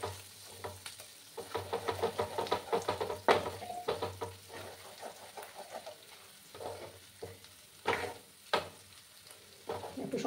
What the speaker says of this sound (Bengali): গ্যাসের আঁচটাকে কমিয়ে এটাকে আমি ভালো করে কষিয়ে নেব